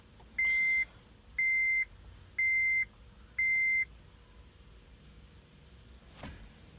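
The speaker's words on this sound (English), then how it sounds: "Turn the ignition off, turn the ignition on, still beeping." Four evenly spaced electronic beeps from a 2010 Honda Civic's immobilizer warning, each about half a second, ring out clearly over a quiet background hum.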